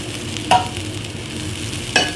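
A utensil scrapes the bottom of a pan deglazed with red wine. Two short, sharp scrapes stand out above a steady, close bubbling sizzle.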